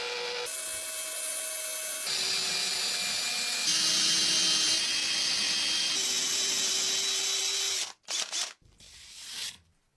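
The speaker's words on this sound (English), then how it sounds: "then drill precise countersunk mounting holes" A high-pitched drill whines steadily for several seconds drilling countersunk holes in a solid oak base, its pitch shifting slightly as it bites into the wood, then stops with a few brief bursts.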